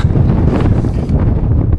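Strong, constant wind buffets the microphone on an exposed hillside walking path during harsh weather in the Yorkshire Three Peaks, with a low roaring rumble and gusty fluctuations and no voices.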